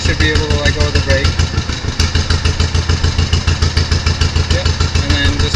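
A tractor engine chugs steadily at close range with a rhythmic, clattering pulse while being driven slowly on level ground, loud throughout, with a person talking over it.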